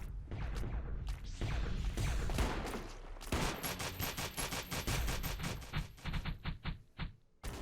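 Dense automatic gunfire from a Death Squad in Space Station 14, rapid bursts and fusillades overlapping loudly, ending in a fast run of sharp evenly spaced shots.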